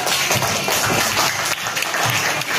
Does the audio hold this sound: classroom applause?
yes